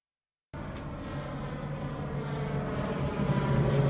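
Aircraft engine drone over Marmaris, Turkey, a steady broadband roar rising gradually in loudness after a short silence, with no talk.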